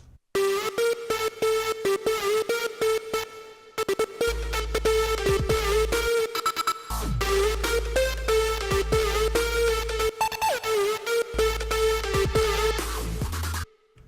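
A bright trap synth lead made in Reason 7 plays a bouncy melody over deep sliding 808 bass, punchy and loud, with brief pauses before the beat kicks back in.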